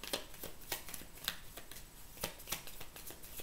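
Oracle cards are shuffled by hand, a steady run of soft, close riffling and flicking strokes at an irregular rhythm, with no voice over them.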